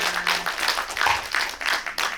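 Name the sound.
audience applause for cinematographer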